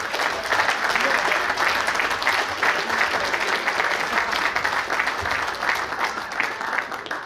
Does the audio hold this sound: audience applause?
yes